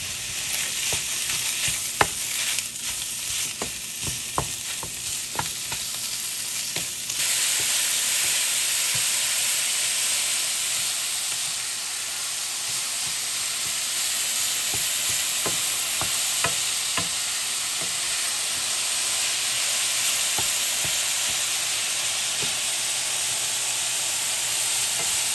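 Sausage sizzling in a pan with a little seasoning, a continuous close crackle and hiss with scattered pops and spatters that grows denser partway through, no voices.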